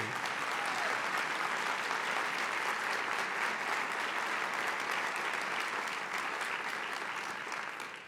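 Sustained applause from a large audience at a university presidential investiture ceremony, honoring Lindy Marshall; dense, steady clapping fills the whole stretch and tapers slightly at the very end.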